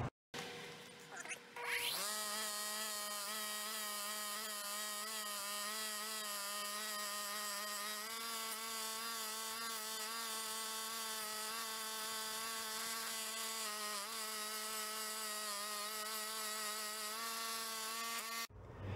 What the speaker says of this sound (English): I took the heavy stuff off the wire wheel